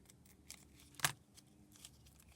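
Scissors snip through a small adhesive Velcro dot, one crisp close cut at the centre with faint handling rustles around it, no voices.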